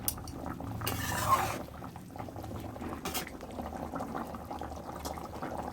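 A fish curry with mustard paste bubbles at a steady simmer in a pot, a close, continuous boil broken by a few brief clinks of utensils.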